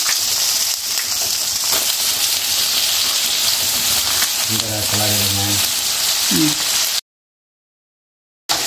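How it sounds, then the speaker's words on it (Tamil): Onion and curry leaves sizzle steadily in hot oil in a pan while cooking for a mango curry, a constant loud hiss with brief bubbling bursts partway through, then the sound cuts off. "இப்போ மாங்காய் குழம்புக்கு வந்து நான் வெங்காயம் அப்புறம் வந்து கருவேப்பிலை சேர்த்துக்கிட்டேன்"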